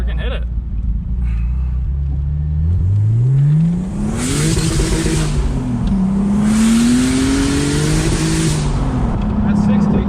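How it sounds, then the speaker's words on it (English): A turbocharged BMW car accelerates hard, its engine note rising steadily in pitch through the gears with loud turbo whoosh and hiss layered on top, heard from inside the cabin. "It's all turbo noise, which is fine."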